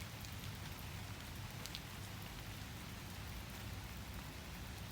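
Steady rain falls outdoors, a dense, even hiss of drops that holds constant and fairly close for the whole stretch, with faint low rumble beneath and no voices.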